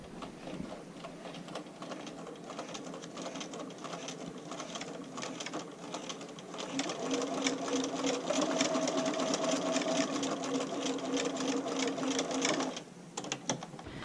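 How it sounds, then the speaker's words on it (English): A sewing machine runs a straight stitch to attach a strap onto a handmade bra, a steady continuous mechanical whir that grows louder and stronger midway before stopping near the end. "take this over to the machine and sew with a straight stitch to attach the strap onto my bra"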